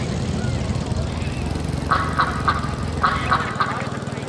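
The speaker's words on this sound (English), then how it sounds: "click on ducks to make them quack" Cartoonish duck quacks from a theme-park building video game, set off by clicking on the ducks: a quick series of short, bright quacks in two clusters, heard under steady game music and background hum.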